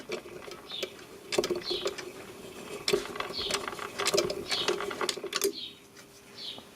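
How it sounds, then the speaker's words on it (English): A small solenoid stops the escapement inside an L&G timeswitch, making quiet mechanical clicks and a light ticking whirr with a few sharper taps and brief rustling. "You hear the little solenoid in there that stops the escapement"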